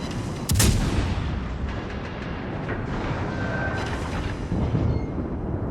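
Warship guns fire during a naval video game battle featuring the cruiser Fiji: a loud, close booming salvo near the start, then a rumbling, noisy backdrop and a second weaker blast toward the end.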